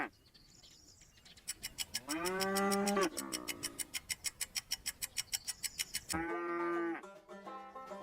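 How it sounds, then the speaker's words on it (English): A cow moos in two long, loud, drawn-out calls separated by a steady ticking like a clock, heard up close with no voices, as a farm animal sound for a children's listening quiz. "Yes, a cow."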